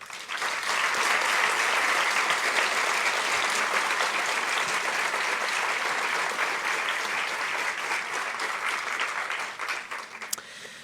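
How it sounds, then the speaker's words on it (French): An audience at a French town's New Year address gives sustained, warm applause for the volunteer firefighters of the local rescue centre, a broad even clapping lasting about ten seconds before thinning out. "je vous invite à les applaudir chaleureusement"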